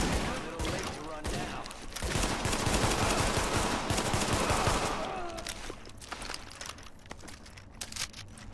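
Assault rifle and pistol gunfire in The Division, rapid bursts of shots building into a dense volley, then thinning to scattered single shots, with a voice talking over parts of it.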